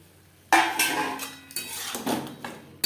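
Pointed gourd pieces tumble into a pan of spice masala with a sudden metallic clatter, followed by a few more rattling knocks and a soft sizzle underneath.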